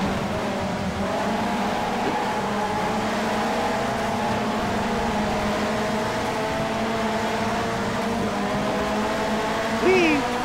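An upgraded rally car engine in Rush Rally 3 rallycross drones steadily at high revs, a continuous near buzzing tone with slight pitch shifts and a brief squeal near the end.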